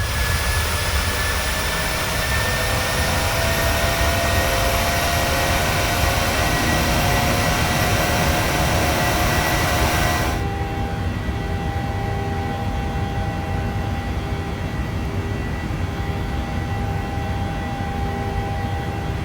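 CFM jet engines of an airliner climbing toward 13,000 feet in Microsoft Flight Simulator: a continuous loud roar with whining tones, steady throughout, its bright upper hiss dropping away abruptly about halfway, leaving a duller rumble.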